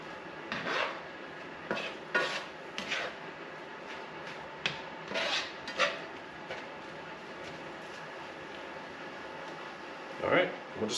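Rice and a whole egg stirred together in a pan, scraping and rasping utensil strokes in several bursts with a faint sizzle beneath, under intermittent talk.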